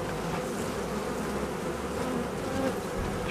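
A steady, droning buzz of many Buckfast honey bees around a hive being prepared for autumn, close and continuous with no voices.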